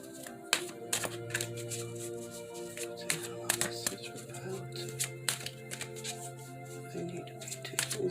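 Large oracle cards being shuffled close by, with soft riffling and tapping in irregular bursts against a quiet background hum.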